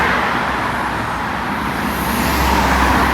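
Loud, continuous road traffic rolling past on a town street by a historic waterfront church, a dense roar of cars and heavier vehicles close by that swells slightly toward the end.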